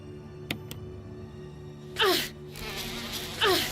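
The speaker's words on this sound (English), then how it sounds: "Oh, there's bugs. Get away from me." Swarming bugs in the video game Resident Evil give off two loud buzzing, chittering bursts a second and a half apart, over a low steady game hum with a couple of sharp clicks before them.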